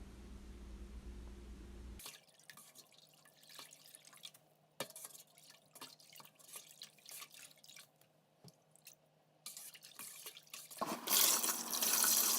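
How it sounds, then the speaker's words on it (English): Water splashes and trickles in a sink as sandy okazi leaves are swished and rinsed, with irregular drips and sloshes, then a louder rush of running water at the end. "So you wash it with enough water."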